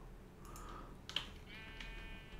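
A sheep bleats in the video game Beyond Galactic Science: a single faint, drawn-out call in the second half, alongside soft clicking.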